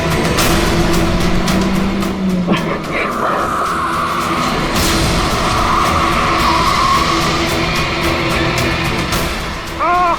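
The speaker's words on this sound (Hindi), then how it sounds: "गाड़ी की ब्रेक क्यों नहीं लग रही?" A car whose brakes have failed skids with a long tire squeal through steady loud road noise, dramatic engine roar and sharp impacts scattered throughout, plus brief voices.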